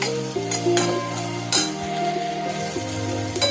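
Slit green chillies sizzling in oil with cumin powder in a frying pan as Bengali laal sag with prawn is cooked, a close, steady hiss with spatula scrapes and light clinks of stirring, and no talking.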